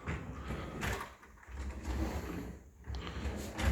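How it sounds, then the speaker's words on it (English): Wide kitchen drawers in a villa slide open and shut in a few soft, separate runs, each a brief rolling rumble with a light knock, heard alone at close range. "You get the drawers coming in there,"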